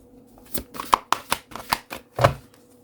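Tarot cards being shuffled by hand, a series of about eight sharp, irregular slaps and riffles, close and clear with no talk.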